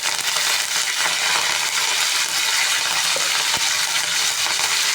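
Curry leaves crackle and sizzle in hot oil along with white sesame seeds, a dense steady hiss with a few sharp pops, close and loud.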